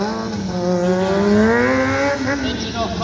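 A stunt motorbike engine revs hard at a stunt show, a loud, steady, rising buzzing drone held close for about three seconds with crowd or announcer noise faintly beneath.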